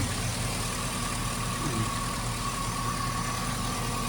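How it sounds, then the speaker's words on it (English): A steady, even idle of a 2006 Chevrolet Suburban LTZ's 6.0 LS V8 drones on continuously with a low rumble and constant hum, close and unchanging throughout. "This is the engine."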